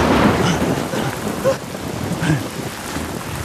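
Thunderstorm with steady heavy rain hissing throughout and low rolling thunder rumbling underneath, continuous and fairly loud, no voices.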